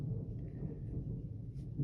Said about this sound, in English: We are having an electrical storm.